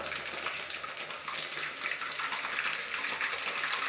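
Hibiscus flowers and leaves, slightly damp from washing, splutter in hot oil for homemade hair oil, making a close, continuous frying hiss dotted with sharp pops and crackles.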